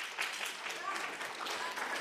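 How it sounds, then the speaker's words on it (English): An audience at a university talk in Zurich applauds after a political speech, a steady broadband wash of clapping that holds at an even level for the whole two seconds. "Let's applaud this gentleman"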